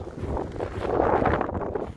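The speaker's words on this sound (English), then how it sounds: "It's very windy, so hopefully you can hear me" Strong winter wind buffets the microphone on a downtown Chicago street, a continuous loud rumbling roar that swells and eases without any speech.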